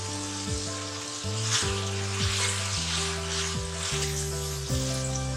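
Tomatoes hit a hot pan for beef and capsicum keema and crackle in a loud, dense sizzle, with a low hum and stirring scrapes underneath and no voices.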